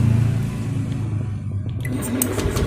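A Honda fuel-injected motorcycle engine is cranked with the starter during a wiring check, producing a loud, steady close-up mechanical rumble throughout, with no speech.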